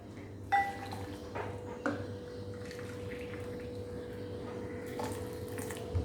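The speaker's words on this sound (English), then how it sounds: "Now I'm going to add 2 measure of hot water to this." Hot water pours into a bowl of Rava Upma premix in a kitchen, a soft, continuous trickle broken by a couple of sharp clinks from a utensil or dish.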